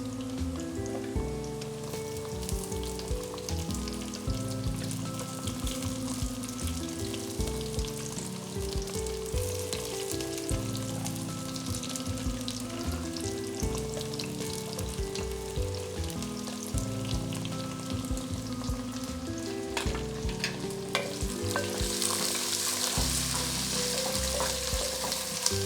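Shallots frying in coconut oil make a continuous dense sizzle and bubbling, with frequent clattering stirs of a utensil against the pan, growing brighter and hissier near the end.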